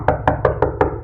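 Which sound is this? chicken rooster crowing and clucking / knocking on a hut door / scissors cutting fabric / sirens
knocking on a hut door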